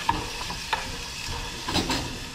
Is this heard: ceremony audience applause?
no